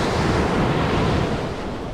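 Ocean waves wash up onto the sand at Navarre Beach, a steady broadband roar of surf with some wind rumble, close and continuous without any talk.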